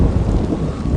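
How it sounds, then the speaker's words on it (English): Thunder rumbling through a lightning storm in the animated film The Good Dinosaur, a steady, loud low roll mixed with rain for about a second, with no voices. "we're reminded again that Arlo still has some major issues regarding lightning."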